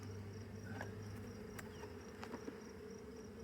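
Honey bees at an open hive during an inspection for eggs, a faint steady buzzing hum with a few sharper passing buzzes of individual bees close by.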